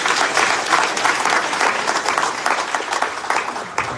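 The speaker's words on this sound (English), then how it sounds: "Let's give another round of applause." Loud, dense applause from the audience at a Hindu temple Kavady festival celebration, thanking the singers after their performance; sustained clapping from a large crowd throughout.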